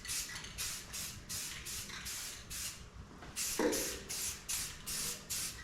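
Short bursts of a spray gun laying a light dust coat of paint on a 1995 Chevrolet Silverado, hissing on and off in a steady rhythm of about a dozen close, fairly loud passes with brief pauses between.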